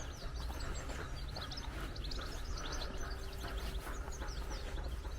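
Birds chirp and twitter steadily across a spring allotment garden, a dense layer of small calls over constant outdoor background noise.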